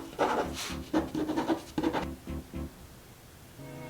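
A pen scratching across a piece of paper in short, quick strokes, close and fairly quiet, with brief pauses between bursts and no talk.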